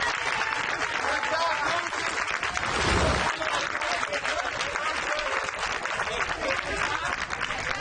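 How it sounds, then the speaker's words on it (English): A baseball crowd at a youth Intermediate (50/70) World Series game between Louisiana and Wisconsin applauds the Wisconsin pitcher with steady, loud clapping throughout, under a commentator's talk. "He definitely deserves a round of applause."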